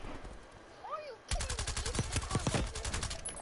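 Rapid bursts of gunfire from the Call of Duty video game, dense and loud after a quieter opening, with a voice talking over the shots.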